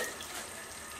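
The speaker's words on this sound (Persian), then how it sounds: "گلاب اضافه میکنم" Rosewater is poured into sugar syrup boiling on the stove while making Iranian bamieh syrup, giving a steady, close liquid rush and bubbling hiss that carries evenly through the moment.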